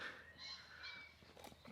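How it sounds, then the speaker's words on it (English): Birds call in Edinburgh city centre, faint goose-like honks and chirps drifting over a soft outdoor hiss, a few overlapping calls in a short span. "That added with the sound of the birds makes you think you're really in the countryside"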